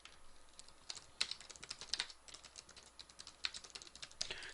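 Quiet typing on a computer keyboard, an irregular run of soft, close key clicks with no talking.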